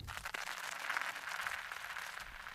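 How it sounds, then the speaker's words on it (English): A continuous gritty scraping texture, dense and steady, with a smeared echoing tail that blurs individual scrapes into a looping wash. "Then I loop that part and put a little bit of delay on it."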